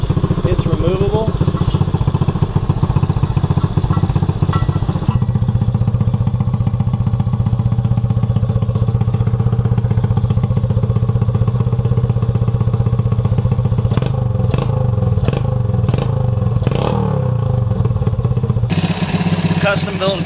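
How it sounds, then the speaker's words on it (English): A homemade custom exhaust on an ATV nicknamed Mater, built with a stock spark arrestor and a big washer, runs loud and steady throughout, with a shift in tone partway and a few sharp revving bursts near the end. "Custom built exhaust for Mater."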